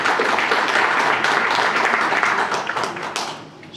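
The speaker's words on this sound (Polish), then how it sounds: "Wielkie brawa" Audience applause for a prize jury at an award announcement, dense steady clapping from a crowd that thins and fades toward the end.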